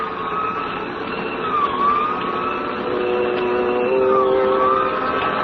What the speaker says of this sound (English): We both heard the siren then